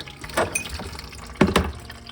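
Water drains out of an opened plumbing pipe after the supply is shut off, a close gurgling, splashing flow with two stronger surges.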